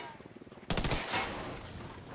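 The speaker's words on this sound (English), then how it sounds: "So it took 6 shots to disable the generator." Shots from an Mk 18 rifle in a video game strike a generator, a steady series of rapid reports followed by one loud sustained burst of firing and clatter.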